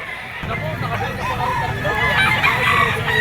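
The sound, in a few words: rooster crowing at a gamefowl pet market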